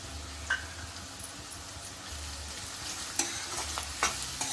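Onion frying in a pan with curry leaves and green chilli for kande pohe, a steady sizzle with soft stirring scrapes and a few sharper clinks, close and moderately quiet, with no talking.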